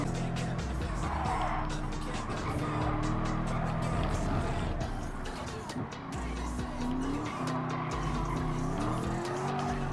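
Race cars in the Gran Turismo 7 video game roar close by in a final-lap pack, their engines whining through gear changes while tires squeal and skid almost continuously. The sound stays loud throughout.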